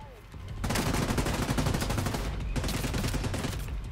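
Sustained rapid gunfire from the video game The Division 2 rattles loudly in dense bursts, with a short break before another long volley.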